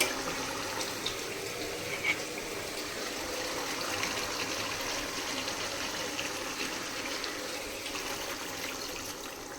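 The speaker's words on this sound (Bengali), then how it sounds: "দিয়ে দেব পরিমাণ মতো জল" Water is poured into a pan of simmering potato and paneer curry, making a steady, continuous gushing wash that runs throughout at moderate level, with no talking.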